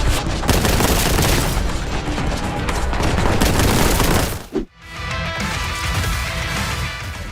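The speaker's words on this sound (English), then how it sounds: "the classic bolter to plasma guns and heavy bolters" Bolter and plasma gun fire in a retro boomer shooter game roars as a dense, continuous barrage of loud blasts and explosions, briefly dropping out before the heavy firing resumes.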